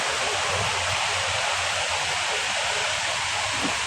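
Floodwater flows past a flooded house, a constant broad rushing hiss that stays steady throughout, with no voices heard.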